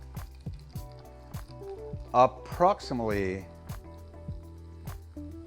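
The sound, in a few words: ginger beer being poured into a cocktail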